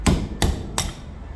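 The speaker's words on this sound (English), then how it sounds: "pound the chisel out of it" Three sharp hammer blows evenly spaced, each loud, close and ringing briefly, as a Japanese chisel is pounded out of its steel ring held in the teeth of a vise.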